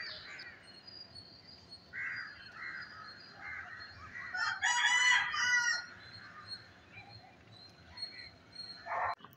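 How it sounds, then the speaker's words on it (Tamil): A rooster crows loudly and close by amid a steady backdrop of sparrows chirping, with a few sharper calls near the end. "இந்த குருவி சவுண்டு, இந்த கோழி சவுண்ட்லாம் நல்லாயிருக்கும்."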